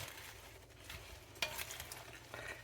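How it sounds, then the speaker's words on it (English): Spinach with stems left on being stirred in a hot pan while it wilts, a soft scraping and shuffling of leaves over a low sizzle, with a sharper utensil knock partway through. "And just stir it up real good."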